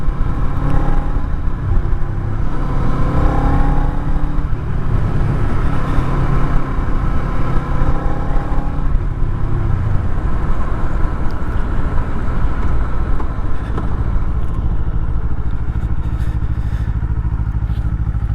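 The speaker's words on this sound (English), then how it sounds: "One thing I do forget about this bike, riding that MT-07 so much, is it is quite a bit buzzier than my MT" A Kawasaki Eliminator 500 motorcycle engine buzzes loudly and continuously while riding, a steady thrum with rising and falling revs and wind rush, no talking.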